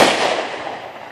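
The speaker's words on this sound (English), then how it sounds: "Because fireworks, yeah." Backyard fireworks bursting close and loud, a dense crackling blast that slowly fades over about a second with no voices.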